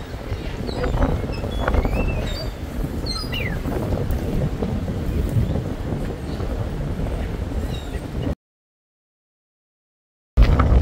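Strong gusting wind buffets the microphone near the Statue of Liberty in New York City, a dense, roaring rush with faint distant sounds beneath, cutting to silence briefly before resuming.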